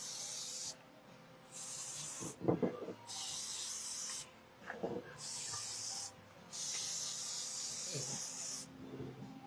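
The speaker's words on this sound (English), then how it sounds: "We'll spray it. You may not need to because it's a glass pan, but I'm going to anyway." Cooking spray hisses into a glass baking pan in about five sharp bursts of roughly a second each, with light handling clatter in the gaps between them.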